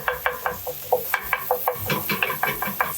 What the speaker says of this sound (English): Now I'm going to continue chopping up the ground beef.